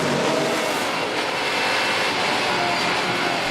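Race cars, among them a McLaren and a blue Volvo, roar around a circuit during a 2013 Supercar Challenge round, a dense, steady engine drone filling the whole stretch with no clear gaps.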